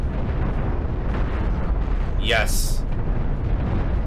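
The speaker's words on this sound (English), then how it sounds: "Move in, get out those cannons." Spaceship cannons fire in the space-combat video game Cosmoteer as a dense, booming rumble with a brief rising whoosh, while a voice speaks over the battle noise.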